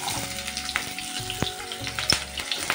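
Two chopped onions and four green chillies fry in hot oil in a pan, a steady close sizzle with occasional stirring clicks and taps, no voices.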